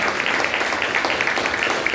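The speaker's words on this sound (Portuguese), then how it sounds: "Se você entende isso, aplauda ao Senhor." A church congregation claps steadily together, a dense, continuous patter of many hands filling the room at close range.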